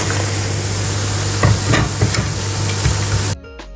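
Garlic and ginger frying in hot oil for a pork pickle, a loud, continuous sizzle with scattered clinks and scrapes of stirring that cuts off abruptly near the end.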